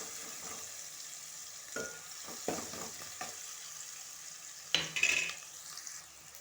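Curry leaves sizzle in hot oil in a pan with tomatoes, a steady frying hiss broken by occasional stirring scrapes and a few metallic clinks of a utensil against the pan.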